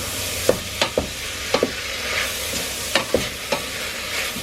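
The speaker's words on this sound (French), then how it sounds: "Je vais mélanger, bien sûr." A spoon stirs food in a pan after a crumbled Maggi stock cube goes in, giving a string of soft scraping clinks against a low background sizzle, close and fairly quiet.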